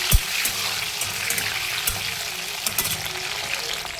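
Sliced tomato sizzles and fries in a pan with curry leaves over a medium gas flame, a steady crackling hiss broken by occasional stirring clatters, close and without talk.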